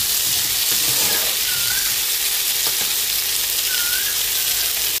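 Vegetable curry fries in a pan with a steady, dense sizzle and hiss throughout, with a few faint stirring clicks and scrapes close by and no voices.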